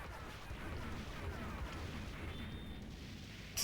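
Explosions in the GI Joe arcade game played by four players, a dense, continuous rumble of blasts and booms from game audio, fairly faint and unbroken throughout.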